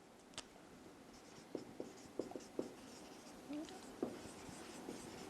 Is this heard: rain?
no